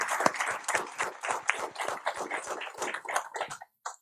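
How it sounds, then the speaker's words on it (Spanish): An audience at a book presentation claps to welcome a guest, a brief, moderately loud burst of scattered hand claps that fades out after a few seconds. "La recibimos también con un aplauso."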